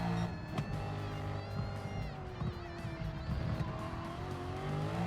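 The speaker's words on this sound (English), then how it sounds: "I'll kind of just let you guys enjoy the sound of the car" Race car engine in the Gran Turismo racing game, a high revving tone climbing and shifting through gears, with tire squeal over the top, loud and continuous.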